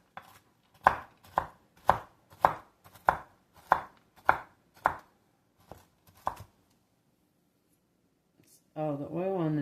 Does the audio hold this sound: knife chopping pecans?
yes